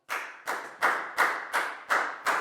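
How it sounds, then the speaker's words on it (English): A Year 4 maths class claps for a classmate in a rhythmic unison pattern of about seven sharp, evenly spaced claps, each decaying quickly, moderately loud and with no talk. "Big round of applause for Prel,"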